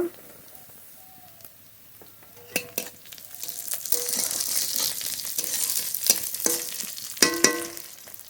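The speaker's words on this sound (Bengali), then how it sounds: "পেঁয়াজটা একটু হালকা করে ভেজে নিয়েছি" Onions lightly frying in a pan start quietly, then build into a steady sizzle punctuated by sharp utensil clinks and scrapes against the pan.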